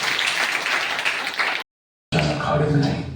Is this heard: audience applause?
yes